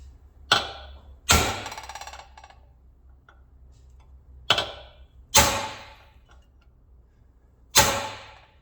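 Five sharp metallic hammer blows strike a 1940 Chevy coupe being lowered four inches, loud and close, spaced unevenly with short ringing decays and quiet gaps between them.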